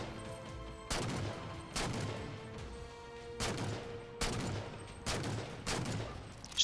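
Rapid bursts of video game gunfire ring out as jackals are shot in Halo Spartan Ops, with loud, spaced volleys recurring every second or so over a steady combat background.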